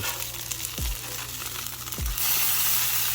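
Chopped cheese beef patties sizzle loudly on a hot griddle, a steady close frying hiss broken by two quick scraping thuds of a spatula flipping the meat.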